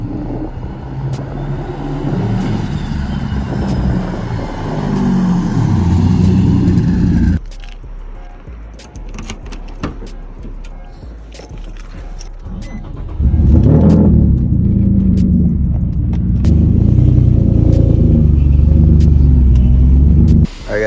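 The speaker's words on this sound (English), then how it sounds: "Car right now is actually sounding a little bit funny." Turbocharged Nissan 350Z Nismo engine running rough with a fault, loud close rumbling idle and revs that swell, drop off and surge again.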